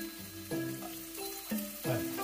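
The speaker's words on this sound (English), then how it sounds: "In the same pan, we're going to throw in some onion." A handful of onion frying in a hot pan for pad thai, giving a steady loud sizzle with a few bursts as the pieces are tossed, close by and without speech.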